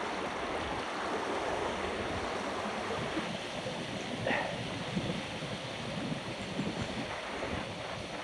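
The Louro river flows past near a pilgrims' path in Galicia, a steady broadband rush of running water with some wind on the microphone throughout.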